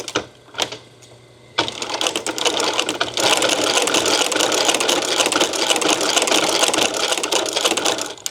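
Antique saddlery-industry sewing machine stitching leather for a custom holster, starting with a couple of isolated clunks, then a steady rapid mechanical clatter that runs loud and close for the rest of the clip.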